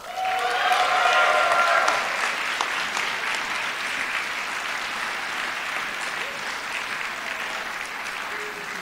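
Audience applause for graduates at a master's degree conferral ceremony, a broad steady wash of clapping that swells loudly at first and then holds at a sustained level throughout.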